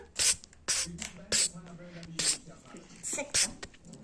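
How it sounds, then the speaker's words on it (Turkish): A toy hair spray bottle gives several short, sharp hissing bursts during pretend hairdresser play with amigurumi dolls, each spray quick and close, mixed with soft voices talking between the puffs. "önce sprey sıkacaksınız"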